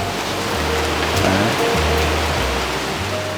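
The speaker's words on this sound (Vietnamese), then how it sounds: "Ngày hôm nay thì Đà Nẵng đang vào đợt áp thấp nhiệt đới mùa thấp điểm nên là có mưa nhẹ." Light rain falls steadily during a tropical depression in Da Nang, a dense, even hiss of drops hitting surfaces nearby, with a faint low rumble underneath and no voices.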